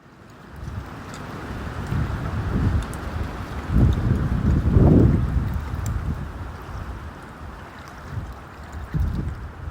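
Blustery wind at the lakeside at Newmillerdam on a chilly day, rumbling gusts buffeting the microphone, swelling and easing over a steady low roar.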